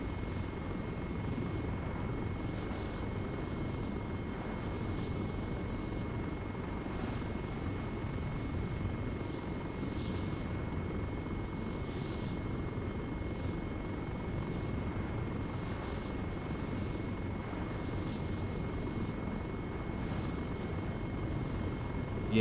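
Helicopter in the Arma 3 military game flying steadily with a constant rotor and engine drone throughout, mid-distance and even in level, no voices present.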